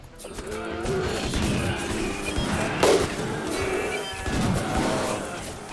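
Dense, chaotic combat noise in the colony game RimWorld during a mechanoid attack, with overlapping gunfire cracks and impacts at a steady loud level and a sharper crash near the three-second mark.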